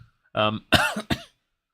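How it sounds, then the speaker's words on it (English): Two or three short, dry coughs in quick succession after a brief throat sound, close to the microphone. "I do apologise if anyone hears a dry cough"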